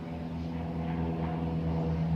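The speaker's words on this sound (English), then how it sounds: "there's an airplane flying overhead right now, which you may be able to hear in the video" Airplane flying overhead on a night with a full moon, a steady low droning engine hum with a throbbing undertone, continuous and moderately loud, with no voices.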